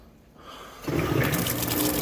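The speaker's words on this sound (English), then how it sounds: "Oh, here goes the rinse cycle." A Maytag commercial washer begins filling with water for its rinse cycle, a steady rushing gush that starts abruptly partway through and continues loud and close, with quieter machine rumble before it.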